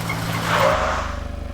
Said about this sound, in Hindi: अमन स्टॉप स्टॉप स्टॉप, गाड़ी रोक।